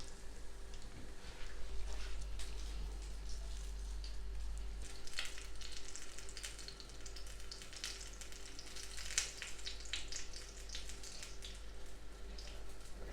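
Steady crackling sizzle of a breaded chicken Kyiv cutlet frying in a pan, close up, with a low hum underneath and no talking.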